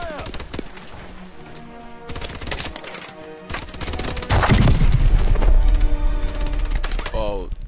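Gunfire and explosive booms in a Call of Duty: Advanced Warfare firefight during the New Baghdad campaign mission, dense overlapping shots with deep impacts swelling louder midway, mixed with game music and voices.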